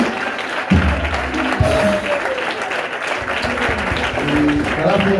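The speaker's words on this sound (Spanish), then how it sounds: "Dale un aplauso a tu Dios." Applause from a church congregation during a worship service rises and holds as a steady mass of clapping, with a few low voices and tones mixed in underneath.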